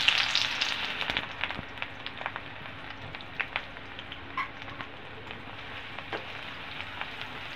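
Onion paste frying in hot mustard oil, a steady dense sizzle with crackling pops scattered throughout, close and even, no talk.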